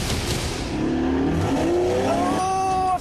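A Renault Megane Sport launches off the start line in a race, its engine revving hard and climbing through the revs, with tire noise and wheelspin close by and loud throughout.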